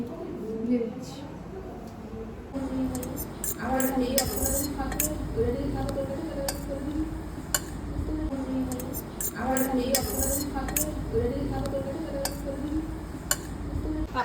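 Raw meat being washed in a pot in a home kitchen, with repeated light clinks and knocks of metal pots and dishes throughout, close by and steady, under continuous voices talking.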